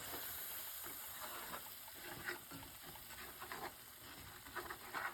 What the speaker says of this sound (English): I'm going to whisk that in.